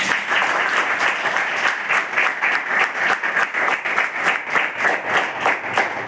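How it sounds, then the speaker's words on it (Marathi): Students at a tribal girls' hostel program in Amravati clap together in a rhythmic, fairly loud burst, the claps falling into a quick, roughly even beat that carries on for several seconds. "टाळ्या वाजवा जरा."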